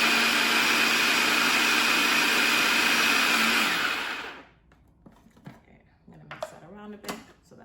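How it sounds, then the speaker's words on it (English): Food processor blending a black bean burger mixture, a loud steady whirring motor for about four seconds that winds down and stops, followed by quiet handling noises and a voice speaking. "And then I'm going to run this again. If you weren't using a food processor"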